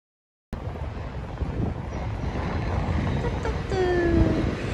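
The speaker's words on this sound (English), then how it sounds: "this is like typhoon level of wind" Strong wind buffets the microphone on a Tokyo street in the morning, a continuous close roar that gusts and builds, with faint passing tones in the background and no talking.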